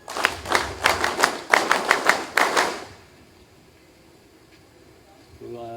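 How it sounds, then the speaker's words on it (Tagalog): About a dozen sharp, rhythmic claps ring out at a military ceremony, loud and close for under three seconds before stopping, followed by near silence and a faint voice. "Palakpak!"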